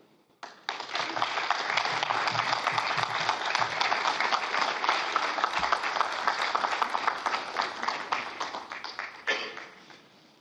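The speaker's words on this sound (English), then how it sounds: "let's have a big round of applause for all the O3b SES task teams" A big round of applause at a rocket launch event honoring the O3b SES satellite task teams: dense, steady clapping starting abruptly, holding for several seconds, then tapering off.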